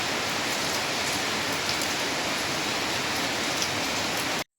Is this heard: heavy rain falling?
yes